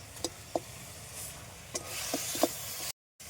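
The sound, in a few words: chhana (cottage cheese) with jaggery frying in a pan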